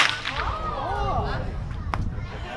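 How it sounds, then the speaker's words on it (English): A whip swung out beside the body and cracked over the head, giving a single sharp crack near the two-second mark amid steady outdoor background noise, Australian setting. "Whip out beside you, crack it over your head."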